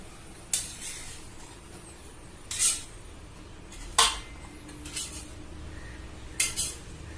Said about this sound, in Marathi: परातीत आपण हे पीठ काढूया